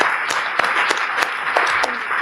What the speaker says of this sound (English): Let's give another round of applause, everybody.